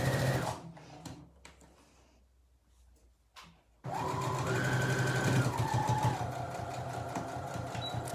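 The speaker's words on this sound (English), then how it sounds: "by sewing along this bottom edge as closely as you can" Sewing machine running a continuous stitching line along the bottom edge of fabric for a door stop draft excluder, a steady close whirring hum that starts after a quiet stretch of softer handling noises and carries on to the end.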